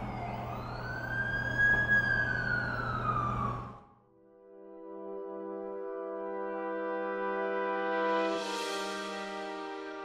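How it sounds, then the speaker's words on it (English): A wailing ambulance siren in The Amazing Spider-Man 2 video game on PS5 sweeps up and down, then shifts into a steady, sustained electronic tone that swells louder toward the end. "That's the ambulance I called."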